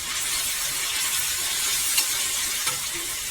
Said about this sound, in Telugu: అవి కూడా బాగా వేయించుకోవాలి ఫ్రెండ్స్